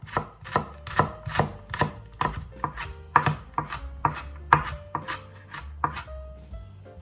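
A knife mincing a single garlic clove on a cutting board, a steady run of sharp, close chopping taps, roughly two per second, with no talk.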